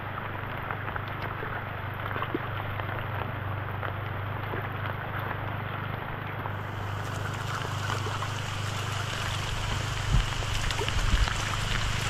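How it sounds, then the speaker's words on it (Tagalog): Heavy rain falls in a steady, dense hiss that grows slightly stronger toward the end, with a few louder drips landing nearby. "Lumalakas na ang ulan mga kabayan."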